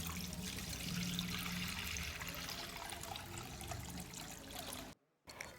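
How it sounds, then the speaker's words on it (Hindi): Whey from chhena, made for rasmalai, strained through muslin cloth over a sieve into a large bowl: a steady close trickle and pour of liquid running for several seconds, then a brief stop near the end. "इसे छानने के लिए एक बड़े बाउल के ऊपर छलनी रखेंगे और इसके ऊपर साफ मलमल के कपड़े को फैलाएंगे और अब छेना को छानकर अलग कर लेंगे।"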